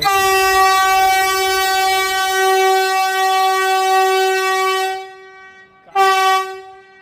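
A loud, sustained Vande Bharat Express train horn blares for several seconds, cuts off, then sounds again in a short second blast.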